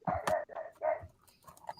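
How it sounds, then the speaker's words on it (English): A large dog of about 100 pounds barking outside at night, a few quick muffled barks and yelps heard from a moderate distance, faint and alone. "He's just barking at the wind."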